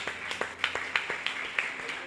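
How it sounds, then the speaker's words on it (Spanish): Sparse, uneven clapping from a small church congregation, a handful of distinct claps at irregular intervals rather than a full ovation, fairly close and moderately loud. "Dele fuerte el aplauso a Dios."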